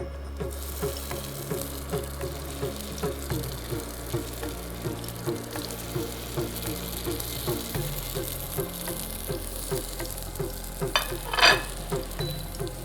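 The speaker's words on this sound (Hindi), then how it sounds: "और तेल गर्म होने के बाद इसमें जो हमने शामी कबाब बनाए थे वो इसमें डाल देते हैं" Shami kebabs frying in hot oil in a pan, a steady close sizzle with rhythmic soft stirring or flipping ticks and a brief louder splash near the end.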